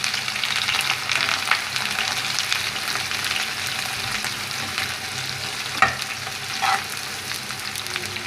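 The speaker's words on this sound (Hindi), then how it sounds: "अब इसके अंदर हम ये प्याज ऐड कर रहे हैं।" Chopped onions frying in hot oil for a fish curry, machli ka salan. A steady, fairly loud sizzle hisses throughout with a couple of brief stirring knocks and no talking.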